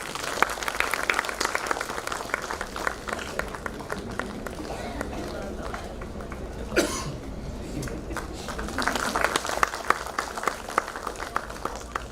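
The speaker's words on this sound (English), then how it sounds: "Big round of applause." Audience applause in a hall at a trauma and mass casualty workshop, a steady patter of clapping from a moderate crowd with a cough in the middle, dipping briefly before resuming.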